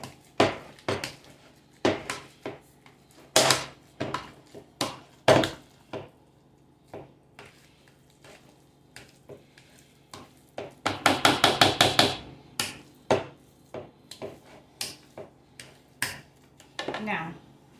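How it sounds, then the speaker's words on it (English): Homemade potatoes with bacon bits being mashed in a pot: irregular clanks and thuds of the masher against the metal, with a quick burst of rapid strikes partway through and soft speech in between. "And just keep mashing,"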